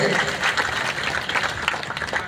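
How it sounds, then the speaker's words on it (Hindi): A political rally crowd claps and cheers loudly in a continuous wash of hand noise, with the crowd's voices mixed in. "जनता का एक बार हाथ खड़ा करके जोरदार तालियां बजा दीजिए"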